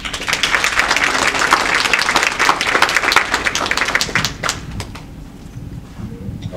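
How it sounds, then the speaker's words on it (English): Live event audience giving a brisk round of applause, dense clapping that holds for several seconds and then thins out to a few scattered claps. "Round of applause."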